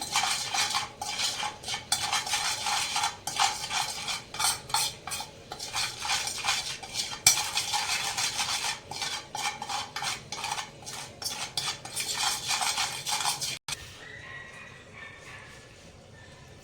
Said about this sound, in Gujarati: તેલની અંદર મરચું અને મીઠું ભરી જાય ત્યાં સુધી આપણે આ રીતના મિક્સ કરીશું